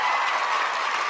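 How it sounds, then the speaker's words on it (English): A brief burst of dense applause from a show audience, steady and fairly close, with no talking over it. "Let's give you a big applause."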